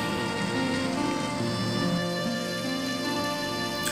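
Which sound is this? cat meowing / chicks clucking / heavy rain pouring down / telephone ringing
heavy rain pouring down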